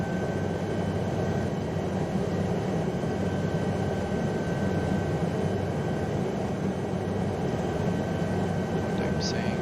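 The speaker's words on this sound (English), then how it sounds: "So it's a slow helicopter." An Aérospatiale SA315B Lama helicopter in flight over the Mont Blanc massif, a loud steady cabin drone of engine and rotor filling the whole clip without letup, with a faint tone running through it.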